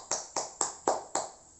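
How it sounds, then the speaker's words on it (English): Five crisp hand claps in a classroom, evenly paced and close, each ending in a short fading tail, with no talking. "Give applause."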